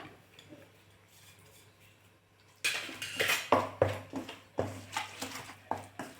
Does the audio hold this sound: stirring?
yes